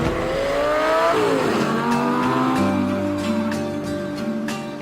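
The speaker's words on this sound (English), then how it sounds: "I was in a Lamborghini in the Alps." A Lamborghini drives on an Alpine mountain road, its engine loud and near, revving up and dropping through gear changes with rising and falling tones and a steady roar.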